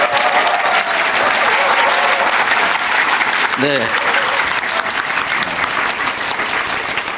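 A large audience applauds and cheers steadily at a town hall meeting in Chuncheon, Gangwon Province, the dense clapping filling the whole stretch while a voice speaks briefly over it.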